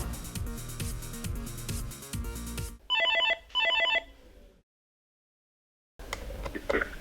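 Telephone bell rings twice in two short, loud electronic bursts indoors, after music, followed by silence.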